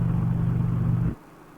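An Indian Challenger motorcycle with a stage 1 exhaust idles with a deep, steady, loud rumble that cuts off abruptly after about a second, leaving quiet.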